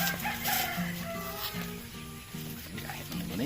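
Repeated low clucking from a chicken, a series of short tonal notes in an uneven rhythm over a noisy outdoor background.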